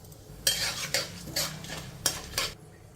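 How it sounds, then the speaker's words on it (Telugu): Tempering spices such as urad dal, chana dal and cumin sizzle in hot oil, interrupted by repeated scraping stirs of a metal spoon against the pan, close and fairly loud with no talk. "పోపు దినుసులు వేగాయండి"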